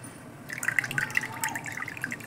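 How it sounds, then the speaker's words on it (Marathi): Water drips and trickles out of a small strainer while soaked lentils for dahi vada drain, a soft patter of quick droplets, close and fairly quiet. "त्यातून पाणी निघून जाते सर्व."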